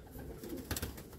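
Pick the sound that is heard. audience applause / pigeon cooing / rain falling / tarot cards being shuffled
pigeon cooing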